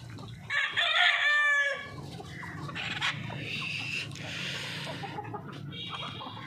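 A rooster on a village backyard desi chicken farm crows loudly and close, then hens cluck softly and intermittently over a quiet rural background.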